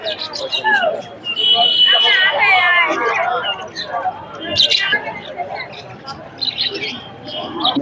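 A pair of cockatiels and other caged birds at a pigeon market chirp and tweet in bright, repeated calls amid a busy crowd, with people talking loudly nearby throughout.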